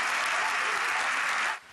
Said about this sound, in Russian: Заявление Пучдемона встречают овациями.